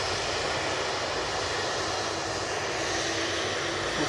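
Jet aircraft engines at Manchester Airport roar as a plane passes, giving a loud, sustained, broadband rumble and hiss that stays steady throughout, with a reverberant quality and no talking.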